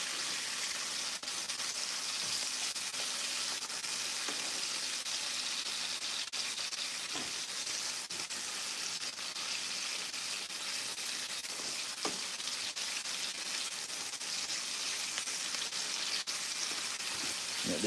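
Herbs, onions, garlic and scotch bonnet pepper sautéing in a pan, a steady close sizzle and crackle of frying with occasional stirring clinks, running continuously without talk.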